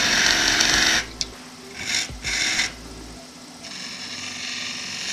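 A spindle gouge cuts ash wood spinning on a lathe, giving a loud, steady scraping hiss that breaks off, returns in two short bursts, then settles into a quieter continuous cutting whir.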